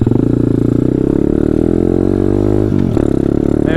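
A pit bike engine with a carburetor in need of cleaning runs loud and close, a rough, steady idle with a slight dip and lurch in pitch near the end, no voices over it.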